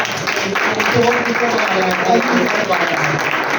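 Steady applause from a crowd at a Christian preaching gathering, a dense wash of clapping that holds for several seconds at an even level.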